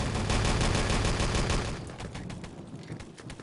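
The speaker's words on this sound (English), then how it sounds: "I hear quite a bit of gunfire around this spawn" Rapid bursts of gunfire in the video game Enemy Territory crackle densely around a spawn area, loud at first then thinning into scattered, slightly quieter shots.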